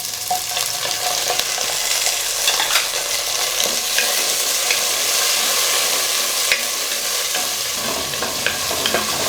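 Onions and chopped tomato sauté in a pan for bisibelebath, with a loud, steady sizzle and frequent stirring scrapes throughout.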